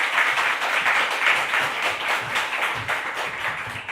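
A church congregation at a Sunday service claps together in a sustained, even round of applause, loud and close, with no voices standing out.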